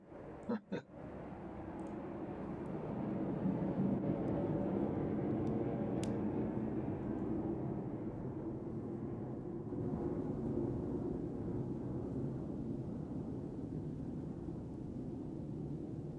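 A jet airplane flies low over a planning commission meeting room in Winooski, its broad, steady roar rising within the first seconds and holding loud and continuous to the end.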